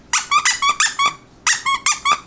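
A squeaky puppy toy for a French bulldog gives two quick bursts of five sharp squeaks each. They are loud and close, with a short pause between the bursts.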